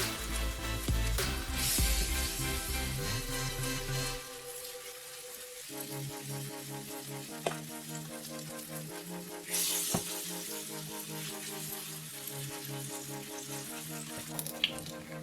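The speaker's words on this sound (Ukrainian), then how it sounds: "підсмажуємо до золотистого кольору та перевертаємо" Batter sizzles and crackles in a hot pan, a steady frying hiss with occasional clicks and scrapes of a utensil, no talking.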